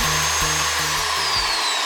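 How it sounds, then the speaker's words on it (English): A power drill spins a green screen drill bit, giving a steady motor whine with a regular low pulse roughly every half second. It runs close and alone for under two seconds before cutting off. "Green screen drill bit."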